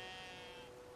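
A faint bleat from a sheep in a video game sounds once as a short, quiet cry over a low background.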